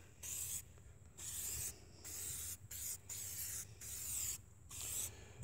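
Several short bursts of Chemical Guys Black on Black tire shine sprayed onto car tires, each hiss loud and close, separated by brief pauses in a quiet setting.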